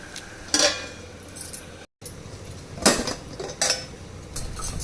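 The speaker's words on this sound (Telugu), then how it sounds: "ఇది మూత పెట్టేద్దాం." A metal lid is set on a cooking pot of Mysore sambar, making a few clanking, clinking metallic knocks up close with short pauses in between.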